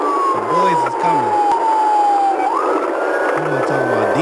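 A police car siren wails during a live-streamed pursuit, a loud falling then rising tone over a steady engine rumble, with a voice speaking in short bursts underneath.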